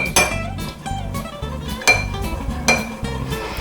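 A spoon clinks rhythmically against the side of a container while stirring milk with lemon juice, with repeated metallic taps at a steady pace, close and clear.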